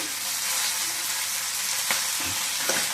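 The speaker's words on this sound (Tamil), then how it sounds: "கொஞ்ச நேரம் நல்லா வதக்கணும்." Mint and coriander leaves sautéing in a pan for a Tamil-style chutney, giving a steady close sizzle with a couple of soft stirring scrapes and no talking.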